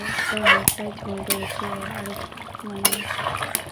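Chicken being stirred in a pot over a wood-fired clay stove, with brief metallic scrapes and clinks of a ladle against the vessel over a low simmer, plus some faint tonal background sound.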